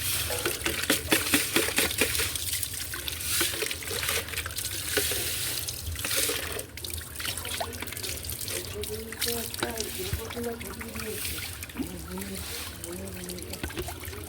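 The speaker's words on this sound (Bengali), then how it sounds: "এভাবে ধুয়ে বালতিটাকে ধুচ্ছি" Tap water running and splashing while a bucket is washed outdoors, a steady close trickle and spatter with someone talking over it in the second half.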